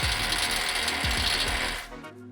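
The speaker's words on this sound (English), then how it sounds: "using the ratchet, secure the masonry bolts through the bracket into the basin wall and tighten to secure" Steady rapid clicking of a ratchet driving masonry bolts through a bracket into a stormwater basin wall, loud and close with a continuous rasping pawl rhythm that stops near the end.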